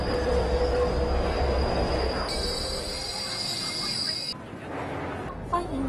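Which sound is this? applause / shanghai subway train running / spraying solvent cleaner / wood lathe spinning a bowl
shanghai subway train running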